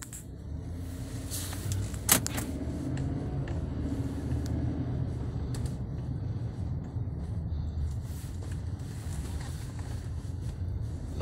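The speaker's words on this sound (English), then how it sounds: "So we're going to take it for a short drive, just kind of give you an idea." A 2010 Cadillac Escalade drives along with a steady low cabin rumble and road noise, a sharp click or clunk early on, and faint rattles inside the cabin.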